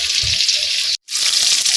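Steady, loud hissing sizzle of fish frying in hot oil, close by in a village kitchen, broken by a brief silent gap midway.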